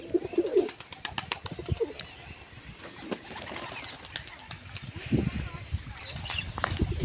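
A pair of white pigeons coo softly in low, rounded bursts at the start and again midway, against faint outdoor background noise with occasional wing flutters and chirps.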